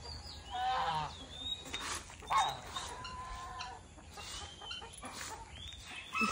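Farm chickens cluck and squawk in a scattered run of short calls, fairly faint and at middle distance, over a quiet outdoor background.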